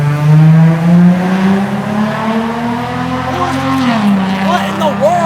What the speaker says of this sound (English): is that a VQ engine?